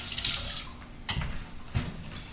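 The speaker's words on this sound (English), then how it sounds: "Let me rinse my fingers off here real quick." Kitchen tap running as fingers are rinsed while cooking stuffed sirloin pork chops, a soft close water hiss at first, then a couple of light splashes, fairly faint.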